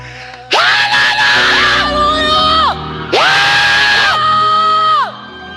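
A church congregation at a worship gathering cheers and whoops in two loud, sustained bursts of massed voices, rising and falling together, close and enthusiastic.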